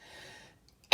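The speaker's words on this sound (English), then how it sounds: "A bit dangerous to cough anywhere at the moment, but it is just a tickle." A single short, sharp cough bursts out at the end after a moment of quiet, close and fairly loud.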